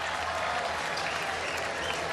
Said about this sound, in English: The fans cheering him on.